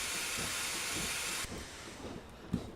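Steam hiss from a BR Class 9F locomotive, No. 92212, in Train Simulator 2016: a loud, steady broadband hiss that cuts off sharply halfway, leaving quieter rumbling with a brief thump near the end.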